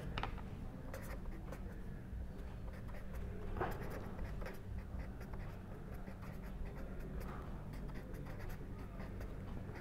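Pen scratching across paper while a drag-coefficient-versus-Reynolds-number graph for a sphere is sketched on a log scale, giving a continuous soft scraping with short stroke bursts over a steady low background hum, no talking.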